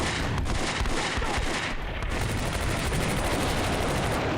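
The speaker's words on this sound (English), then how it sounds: "Mortar is kind of hitting this area, but not direct hit" Artillery and mortar fire in the Combat Mission: Beyond Overlord war game, a dense, continuous barrage of gunfire and blasts with no voices over it.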